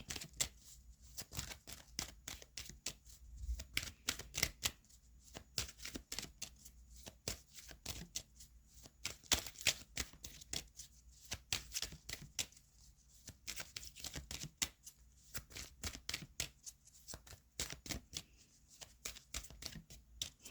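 Tarot cards shuffled by hand in a steady series of rapid riffling bursts, close and quiet, with brief pauses between rounds and no talking.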